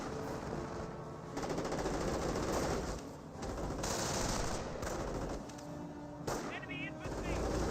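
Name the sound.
gunfire hitting a rifle squad in video game Company of Heroes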